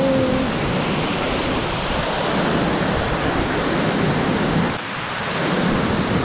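A waterfall in the UK cascades into a deep river at evening, giving a loud, steady, hissing roar of rushing water that barely changes from start to finish.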